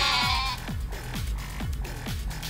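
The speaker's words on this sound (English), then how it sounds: "I'm pretty sure they don't fight sheep like this" Sheep in the Yakuza: Like A Dragon video game bleat several times in a quick series of wavering cries over game audio and background music.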